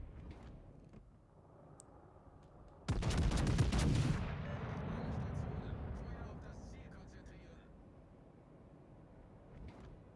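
Warship main guns in World of Warships: Legends fire a single heavy broadside, a sudden loud boom with a rumbling tail, amid quieter game ambience.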